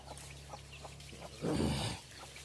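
Chickens cluck in short, soft bursts, followed by a louder flurry of clucking and rustling over a steady low hum.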